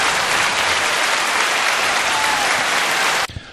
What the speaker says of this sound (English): I'll just play some applause to run us in.